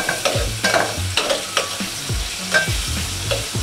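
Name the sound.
chicken with red chili frying in a pan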